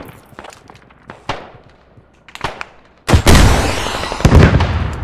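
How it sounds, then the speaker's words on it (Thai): Scattered gunfire and small blasts crackle, then a tank explodes with a heavy boom and rumbling debris, loud and close in a battle in the video game Squad. "รถถังแตก"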